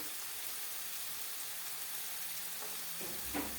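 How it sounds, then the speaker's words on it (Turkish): Chopped onions sautéing in a pan, a steady soft sizzle and hiss with a faint stirring scrape near the end, quiet and continuous with no talking. "Soğanımız bu şekilde kavrulsun"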